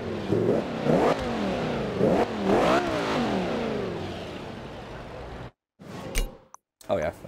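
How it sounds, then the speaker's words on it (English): An Audi R8 V10 gives a series of sharp, loud revs close by, each one climbing and falling quickly, before the engine noise drops away into short gaps of near silence. "Oh yeah, that's a V10. It's a V10."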